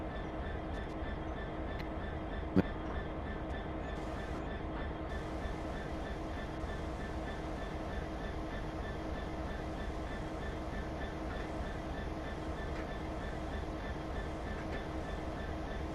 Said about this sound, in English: I think we've got to wait for the replacement HST to clear.